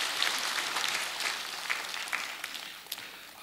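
A church congregation at a Sunday service applauds the children, a moderate round of clapping with individual claps standing out, steady then easing slightly toward the end, heard without speech.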